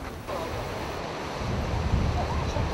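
Steady broadband roar of Changbai Waterfall, a straight 36 m plunge reached by a mountain trail, heard from nearby with wind buffeting the microphone; the rushing noise swells slightly louder toward the end.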